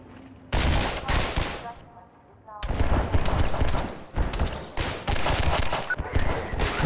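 Snappy gunshots in a first-person shooter, loud cracking bursts in quick clusters with a brief lull, mixed with lively game sounds.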